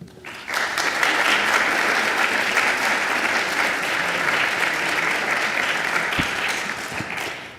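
Sustained, loud audience applause fills a lecture hall as a speaker named Laura is welcomed to a museum talk on European costume and textiles, steady clapping swelling quickly and holding for several seconds before tapering.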